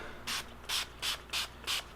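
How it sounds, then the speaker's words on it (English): Lubricant sprayed into the upper receiver of a Tec 9 pistol in five short, even hissing bursts about a third of a second apart, close and crisp with no talking. "spray on the inside of this, of the upper receiver, because this is where the bolt is going to ride"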